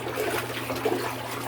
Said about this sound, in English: If I flick the water on right now, I don't need bubble bars.